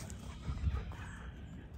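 Faint, brief clucking from a backyard flock of chickens with a turkey nearby, soft low calls over quiet ambient noise.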